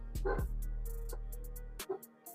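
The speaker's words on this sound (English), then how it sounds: "That dog up there always bark." A dog barks several times in quick, sharp yips and bow-wows, fairly close and alone, with a brief whimpering tail before the barks trail off.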